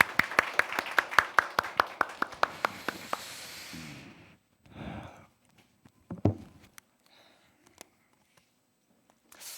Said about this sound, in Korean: 우리 박수로 축복합니다